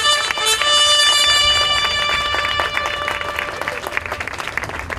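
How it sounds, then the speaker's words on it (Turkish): Guests at a Turkish civil wedding ceremony give a loud burst of applause for the couple. Dense clapping fills the room and gradually thins toward the end. "Ben çiftimize bir güçlü alkış daha rica ediyorum."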